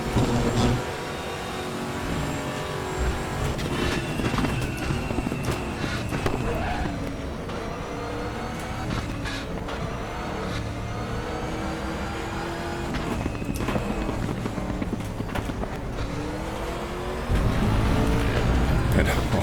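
Nissan GTR GT1 race car in RaceRoom, its engine loud and close, revving hard and climbing through gear changes with shifting pitch sweeps; a voice talks over it at times.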